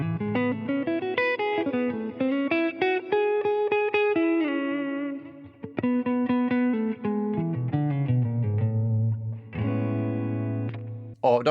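An electric guitar run through effects with distortion, chorus and reverb sounds a sustained major 7 chord, then moves through further chord voicings with shimmering, ringing tones alone.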